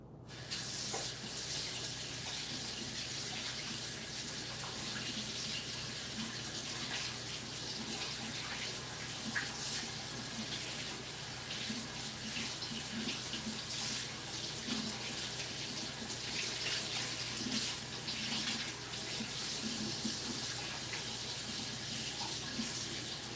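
Tap water runs steadily into a sink while dough is washed off hands during scone making, a continuous close, loud splashing stream with faint handling underneath.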